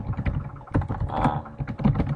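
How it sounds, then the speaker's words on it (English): Continuous typing on a computer keyboard, with quick irregular clicks and a few heavier key strikes, close and alone. "We just need to start typing"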